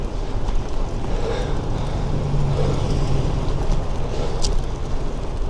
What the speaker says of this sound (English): I've had a guy right behind me on his car